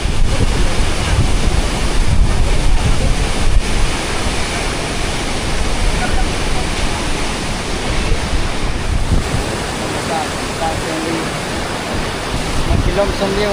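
Steady broadband rush of water at the Tat Siang Lue waterfall, a continuous roaring wash that stays loud and unbroken throughout, like heavy surf or falling water close by.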